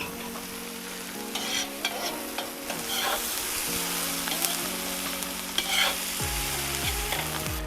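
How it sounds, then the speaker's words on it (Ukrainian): Onions sizzle and fry steadily in a pot over raised heat, with stirring scrapes and clinks scattered throughout; no talk. "Цибулі дуже багато, тому треба збільшити вогонь."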